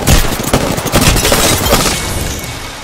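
Apex Legends gunfire: a loud, rapid clatter of shots in quick bursts, sharp cracks repeating through the first two seconds, then fading into a lingering rumble of battle noise.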